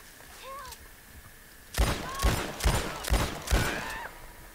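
Gunfire in the video game Red Dead Redemption 2: a quiet lead-in with a faint whistle-like call, then four loud, evenly spaced shots cracking in quick succession.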